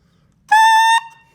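A single short, buzzy, reedy squawk about half a second long, bright and nasal, from a bass clarinet mouthpiece and reed blown alone with no other sound around it.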